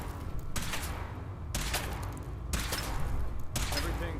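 Weapon fire during a power armor suit test in Fallout 4, sounding as four evenly spaced bursts about a second apart over a steady mechanical background hum.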